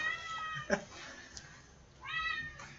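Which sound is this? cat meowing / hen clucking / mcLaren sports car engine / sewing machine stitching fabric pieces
cat meowing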